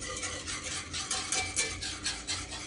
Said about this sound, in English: So stir that roux into the milk.